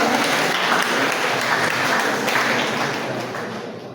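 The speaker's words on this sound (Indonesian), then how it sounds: "Ini juga boleh diiringi dengan tepuk tangan tentu saja." A church congregation applauds steadily through a parish priest handover ceremony in the Bandung diocese, a dense, sustained wash of many hands clapping that eases off slightly toward the end.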